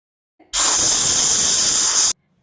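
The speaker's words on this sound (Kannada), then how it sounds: "ಕುಕ್ಕರಲ್ಲಿರುವಂಥ ಪ್ರೆಷರ್ ಎಲ್ಲ ಈ ರೀತಿ ರಿಲೀಸ್ ಮಾಡಿಬಿಟ್ಟು ಲಿಡ್ ಓಪನ್ ಮಾಡ್ಕೊಳ್ಬೇಕು" Steam pressure vents from a pressure cooker after one whistle, as a loud, close, steady hiss that starts abruptly and cuts off sharply after about one and a half seconds.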